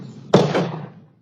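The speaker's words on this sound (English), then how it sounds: "gunfire heard in the middle of the night in Rochester prompts a police response" Gunfire at night in a Northwest Rochester neighborhood, picked up by a Ring doorbell camera: two quick, muffled bangs in close succession, each trailing off into an echoing tail that fades over about a second.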